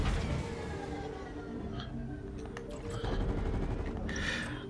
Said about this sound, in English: Are you still on the machine gun?